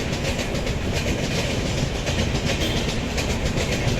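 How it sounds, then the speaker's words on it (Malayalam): A train rumbles past close by, a steady loud roar with rhythmic clattering of wheels on rails throughout. "തൊട്ടപ്പുറത്ത് റെയിൽവേ ഉണ്ട്, ട്രെയിൻ പോകുന്നുണ്ട്."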